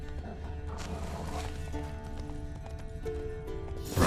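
Horse hooves clip-clop in The Witcher 3: Wild Hunt, a steady close stream of game hoofbeats over ambient wilderness sound, with musical tones and a brief whinny-like swell near the end.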